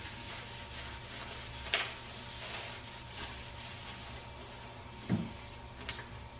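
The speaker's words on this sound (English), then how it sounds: "Or I can just take and rub over the design to kind of cool it down a little bit quicker." A hand rubs over a heat transfer vinyl design pressed onto a shirt. The rubbing is soft, steady and close, with faint swishes and a couple of light taps.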